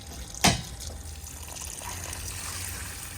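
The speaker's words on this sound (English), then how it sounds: "your wastewater is draining out" Wastewater draining from the tank of a 2025 Auto-Trail V-Line 540 motorhome, a steady trickle and pour of liquid after a sharp click, continuing evenly at moderate loudness.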